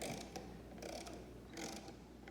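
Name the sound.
ratchet wrench clicking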